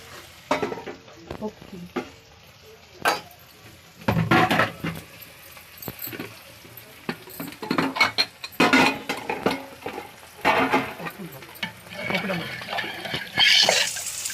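Mustard seeds, cumin, onion and green chilli frying in a pan, with bursts of crackling sizzle and stirring that rise and fall in loudness, broken by quieter gaps and a louder hiss near the end.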